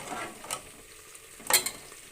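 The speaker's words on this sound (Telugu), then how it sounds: "మజ్జిగ పులుసుని మధ్యలో కలుపుతూ ఉండాలండి" A spoon stirs majjiga pulusu, a buttermilk stew simmering on a stove, with two brief scraping strokes over a soft sizzle, the second louder and close.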